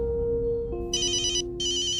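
A telephone rings in a radio drama: a low steady tone gives way to two bright electronic ring bursts separated by a short gap, clear and close with no talking.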